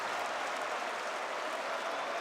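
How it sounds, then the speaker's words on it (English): Steady crowd applause at a Counter-Strike 2 esports match, a dense wash of clapping at constant loudness with no distinct voices. "Yeah, a round of applause."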